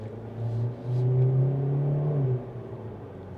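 A 2027 Kia Seltos S accelerates in sport mode on back roads, heard from inside as a low engine drone that rises briefly, dips, then swells again before fading.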